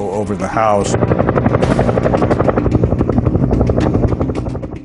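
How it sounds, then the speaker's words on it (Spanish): A helicopter flying low over a house roars loudly overhead, its rotor chopping in a fast steady pulse that fades slightly toward the end, with a voice briefly audible at the start. "Un día un helicóptero pasó volando bajo, muy bajo sobre la casa."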